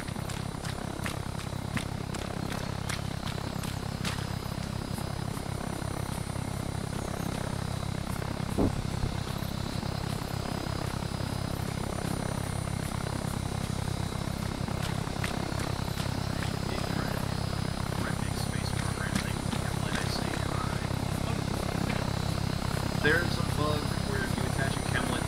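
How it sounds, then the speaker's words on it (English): Large VTOL aircraft in a video game descending to land in a forest clearing, a steady low rotor drone and whine running throughout, with voices talking over it. "I would like to see where they're going to put this giant VTOL down in the middle of a forest."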